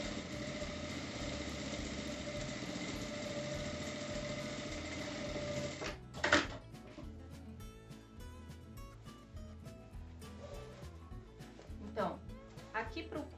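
A sewing machine stitches closed the main fabric of a slouchy sack-style bag, running steadily for about six seconds, then stopping, followed by softer handling noises and brief bursts of further stitching.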